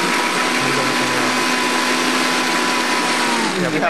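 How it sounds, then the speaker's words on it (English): A kitchen blender purees food to a smooth consistency, giving a loud, continuous whirring drone with a steady pitch throughout. "we'd puree it to a smooth consistency"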